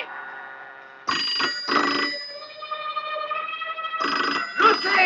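In a 1976 Hindi film, an old-style telephone bell rings in loud metallic trills, two bursts close together, then a pause and another ring.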